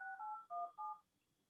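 A phone keypad sends four quick DTMF tones in a row while a number is dialed, clear and close, followed by a near-silent pause.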